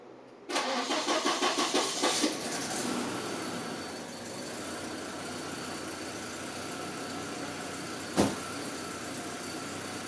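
Volvo 240 cranks with a rapid run of starter pulses, fires up and settles into a steady idle after a long stint in the shop, with one brief knock partway through.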